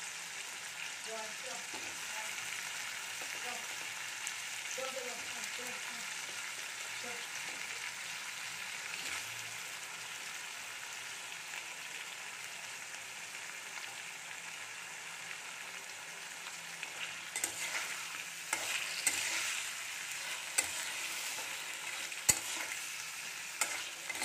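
Chopped tomatoes go into a hot pan for chana dal, frying with a steady close sizzle while a utensil stirs and scrapes, louder clatters near the end.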